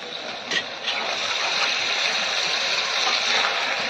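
Water pours steadily from a tap at a house under construction in a village, a close, continuous rushing splash with a brief knock near the start.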